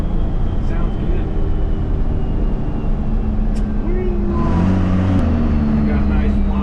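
A Dodge Charger with a new torque converter, its engine droning loudly and continuously with a tonal whine that bends in pitch partway through, under faint talk.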